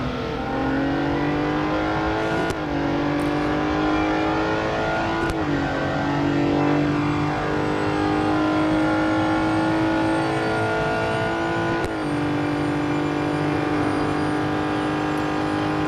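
A 1960s-built race car in Real Racing 3 howls at speed, a loud, continuous engine whine with brief pitch dips at gear shifts before climbing again.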